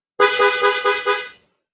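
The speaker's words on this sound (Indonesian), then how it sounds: "Klakson berkali-kali, nyari ribut." A car horn honks repeatedly in quick succession, about five loud, close bursts run together into one blaring stretch before it cuts off, with no other sound around it.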